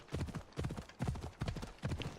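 A horse gallops in the video game Assassin's Creed Odyssey, its hooves beating a quick, steady rhythm of clustered clip-clop strikes, close and fairly quiet.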